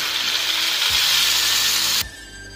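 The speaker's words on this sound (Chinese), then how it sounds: "然后把土豆、豆角下里边开炒" Potatoes and green beans stir-fried in a pot over a wood fire, giving a loud, steady hiss of sizzling oil that drops off abruptly near the end into a quieter crackle.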